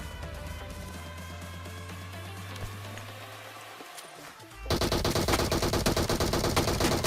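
M249 light machine gun fire in PUBG Mobile: a quiet stretch with a steady hum, then a sudden loud, sustained burst of rapid shots filling the last two seconds.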